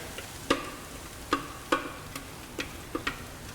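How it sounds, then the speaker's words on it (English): Poblano peppers fry in a hot pan set on high, with a low steady sizzle broken by several sharp crackles and spatters at irregular intervals; no one speaks. "So we got a hot pan going. We're going to get these poblanos in there."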